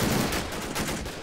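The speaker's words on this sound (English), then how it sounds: "the Japanese machine guns are holding firmly" Japanese machine guns in a war video game rattle in a dense, continuous burst of gunfire, loud and close, with no voices over it.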